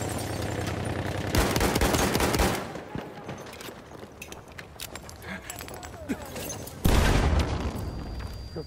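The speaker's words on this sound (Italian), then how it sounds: "Attenzione, mitragliatrice!" Bursts of machine gun fire in a video game battle erupt loudly in two dense volleys separated by quieter stretches of scattered shots and movement, with voices speaking amid the combat.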